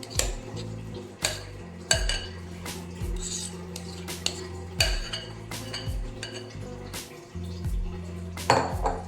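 Kothimbir vadi batter, made with coriander, is poured into an oiled steaming plate and spread evenly, giving a steady run of metal clinks, taps and scrapes of a utensil against the plate, close and fairly quiet.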